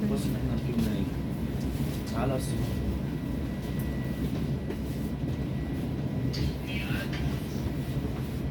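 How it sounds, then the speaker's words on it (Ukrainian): Train standing at a station in an Italian village, a steady low rail rumble and hum carrying through with faint signal tones, as it prepares to depart while voices talk nearby. "все воно вже сигнал дає, що воно поїде. Потяг поїде."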